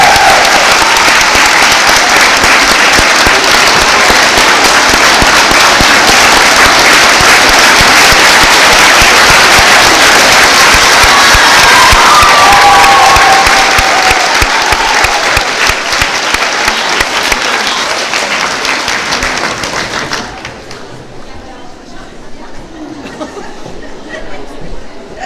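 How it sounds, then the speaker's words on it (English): A school assembly applauds a departing teacher with loud, sustained clapping from a large crowd that fades out toward the end, leaving quieter room noise. "Let's give her a big round of applause for all she has done over her"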